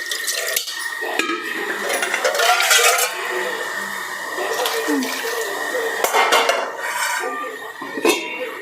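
A metal pot of fish curry with green mango is topped up with a little water and covered. Close clinks and clatter of metal cookware mix with splashing and pouring water over several seconds.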